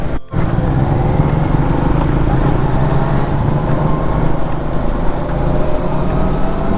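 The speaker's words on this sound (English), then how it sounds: "Listen to that inline 3-cylinder. Absolutely lovely." Triumph Speed 400 motorcycle engine running steadily while being ridden on a road, a continuous loud rumble with wind noise throughout, no one speaking.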